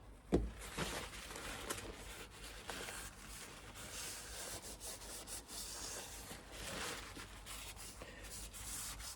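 A rag rubs and wipes excess oil from the edge of a CB Performance 2017cc long-block engine, giving soft repeated scuffing and rubbing strokes, close and quiet, after one sharp knock at the start.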